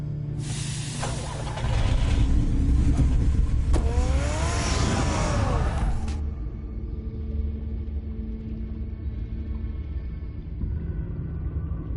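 The engine of Batman's car in Batman: The Telltale Series rumbles deeply and roars up with a rising rev, then settles into a steady low idle-like drone that continues to the end.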